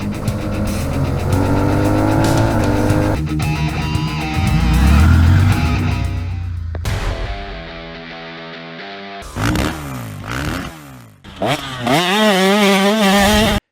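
A Suzuki V-Strom 800DE adventure motorcycle engine revs loudly in repeated rising and falling bursts, close and strong, with gear-change breaks between pulls.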